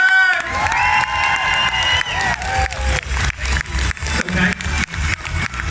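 A Comic Con crowd in Liverpool cheers loudly and applauds for Jason David Frank, with shouts and whoops over steady clapping that gradually breaks into sharper, uneven bursts.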